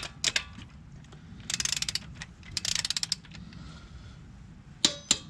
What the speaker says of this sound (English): get your torque wrench and let's torque these to 85 foot-pounds